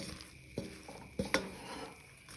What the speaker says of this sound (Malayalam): നല്ല പോലെ ഒന്ന് ഇളക്കിയെടുക്കട്ടെ കേട്ടോ